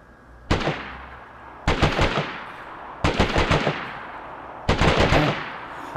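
Four separate bursts of rapid automatic gunfire in the video game DayZ ring out at fairly even intervals. Each burst is loud and sharp with a short decaying tail, and quiet gaps fall between them.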